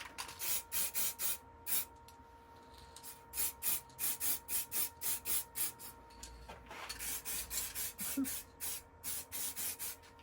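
A wood lathe turns a Christmas bauble while clear varnish is applied, giving quick, rhythmic rubbing strokes over a faint steady motor hum, quiet and close.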